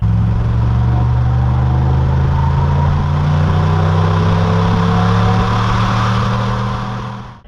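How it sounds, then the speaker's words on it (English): A deep, throaty General Motors car exhaust, tuned to sound like a 1950s Cadillac, rumbles steadily at idle, loud and close, with a low burbling drone before cutting off at the end. "they received a throatier exhaust note, which was tuned to sound like a 50s Cadillac"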